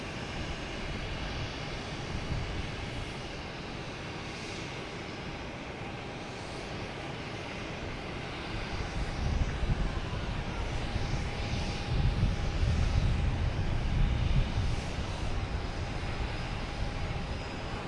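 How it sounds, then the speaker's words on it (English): A Delta Airbus A321 airliner on a flight to Minneapolis at Boston Logan Airport gives a steady, distant jet roar that swells louder through the middle and stays broad and rumbling to the end, with no talking. "we got Delta heading to Minneapolis, the A321"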